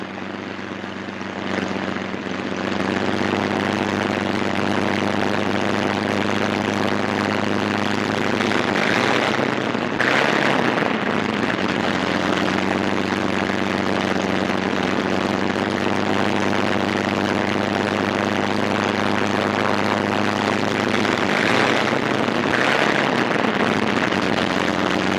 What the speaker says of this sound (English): Plane taxis to its own hard standing, widely dispersed around the field.